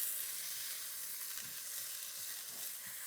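Onions and kangaroo meat fry in a pan for a kangaroo and port stew, giving a soft, steady sizzle with occasional faint stirring taps.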